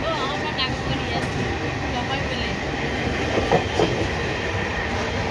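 A train rolls steadily along the tracks with a continuous rumbling clatter, while voices murmur faintly in the background throughout.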